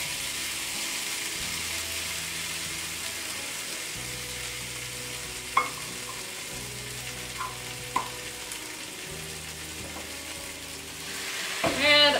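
Cauliflower cheese waffle batter cooks inside a closed waffle maker, giving a continuous hissing sizzle with a few sharp clicks and pops, building louder at the end.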